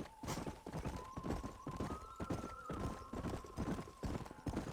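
A horse gallops in the Western video game Red Dead Redemption, with a steady, rapid clip-clop of hooves over a thin sustained musical tone, fairly close, and a faint voice now and then.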